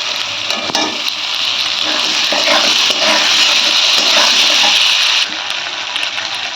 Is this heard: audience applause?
no